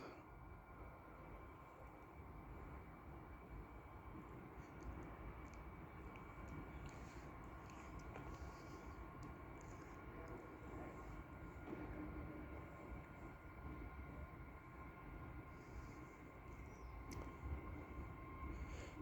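A steady rumble and hum of an LNER Azuma train running at York station on the East Coast Main Line, continuous and fairly even throughout with a faint whine, no talking.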